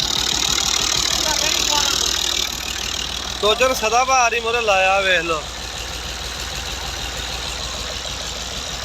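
A 1989 Italian-model Fiat 480 single-lever tractor engine idles steadily nearby with a constant low rumble while someone talks over it.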